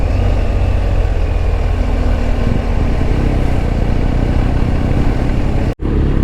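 Motorcycle on tour through Split, Croatia, riding on newly fitted tyres, its engine droning steadily and loud with constant road and wind noise, cut by a brief dropout near the end.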